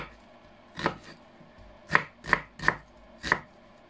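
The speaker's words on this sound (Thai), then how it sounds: "หั่นเล็กๆค่ะเพื่อที่จะตำแหลกง่ายค่ะ" Five sharp knife chops of spring onions on a cutting board, one early and then four in a quick, even run, close and distinct against a quiet background.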